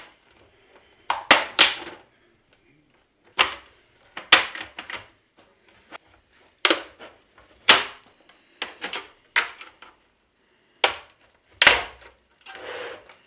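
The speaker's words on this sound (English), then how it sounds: "carefully I will unlock the plastic clamps that are holding the plastic around the case" Plastic clamps on a Samsung TV case being unclipped by hand, a series of sharp, close clicks and snaps spaced out irregularly, with quiet pauses between them.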